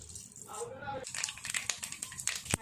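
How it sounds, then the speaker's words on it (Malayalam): Mustard seeds dropped into hot coconut oil for a Kerala erissery, giving sharp, irregular crackles and pops close by after a person speaks briefly. "അപ്പോൾ വെളിച്ചെണ്ണ ചൂടായി വന്നിട്ടുണ്ട്. നമുക്ക് ഇനി കടുക് ഇട്ട് കൊടുക്കാം കേട്ടോ."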